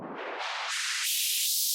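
White noise riser with auto-pan sweeping upward in stepped surges as the pan rate quickens, a loud hissing build that brightens steadily and stays alone without any talk.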